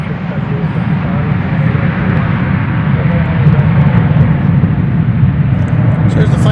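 An airliner departing DFW Airport for Los Angeles produces a steady, moderately loud engine rumble, with a person talking over the noise.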